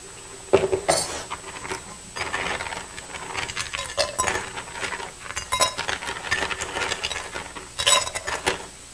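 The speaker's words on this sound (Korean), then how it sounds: "얼음을 넣고 반을 저어주세요." Ice stirred in a glass with a spoon to chill it before making iced tea for a café drink, rapid close clinking and rattling that keeps up throughout with a few louder clacks.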